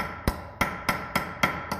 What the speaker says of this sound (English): I'm going to use the ball peen side first